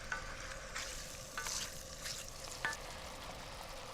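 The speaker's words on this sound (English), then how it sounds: "really this is about softly braising rather than frying" Squid and fennel softly braising in their own liquid in a pan, a faint steady bubbling sizzle with light stirring scrapes and no talk.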